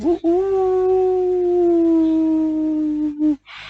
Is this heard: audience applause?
no